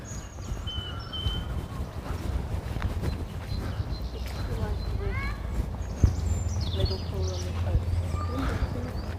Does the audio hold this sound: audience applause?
no